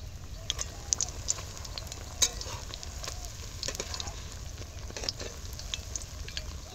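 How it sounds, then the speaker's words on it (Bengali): Potato chops deep frying in hot oil over a medium flame, a steady crackling sizzle with scattered sharper pops and occasional stirring clinks, moderately close and without talk. "আঁচটাকে মাঝারি করে চপটা লাল লাল করে ভেজে নেব"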